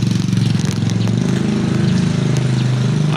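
A vehicle engine drones steadily and loudly with a pulsing low rumble throughout, heard close up with no break.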